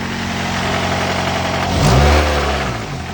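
A Honda Prelude engine idles steadily up close, swells into a brief rev around the middle, then settles back to a lower, rough idle, with no voices.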